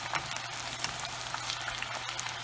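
Steady, dense sizzling and crackling of potatoes deep frying in hot oil, continuous and close, with no voices.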